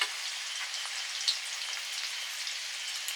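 Food frying steadily in a pan, a continuous close hiss and crackle of sizzling oil with faint spattering pops and no talking.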